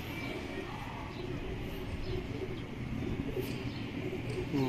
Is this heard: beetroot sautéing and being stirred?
no